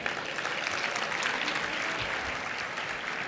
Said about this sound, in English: let's have a big round of applause for Suzanne Slade.